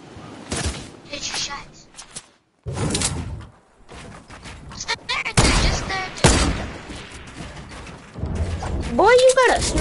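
Gunfire in a PS4 shooter game, bursts of shots mixed with sharp impacts scattered across the clip under a player's excited talk.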